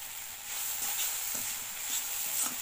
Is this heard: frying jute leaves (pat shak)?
yes